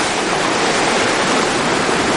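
Ocean surf washing in at Laguna Beach around a shoreline of rocks: a loud, dense, continuous wash of broadband roar, close by, with no distinct breaks and no voices.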